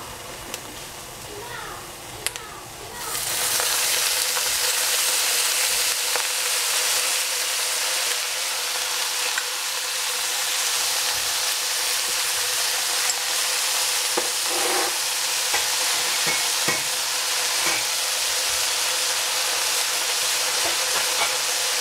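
Cooking oil is poured into a pan over the strongest flame and soon sizzles with a loud, steady hiss that continues unbroken, with faint clinks and a few brief knocks.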